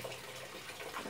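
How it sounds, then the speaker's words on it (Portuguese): Water runs from a tap into a container, a soft, steady rushing that stays faint and close throughout, with no talking. "Vou pegar água aqui."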